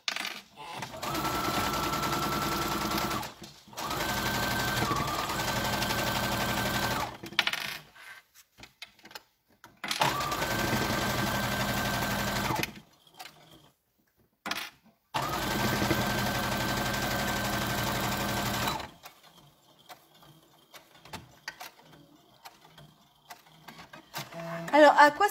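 Sewing machine stitching a spring scarf in three long runs of steady mechanical whirring, broken by pauses and brief handling noises, close and moderately loud.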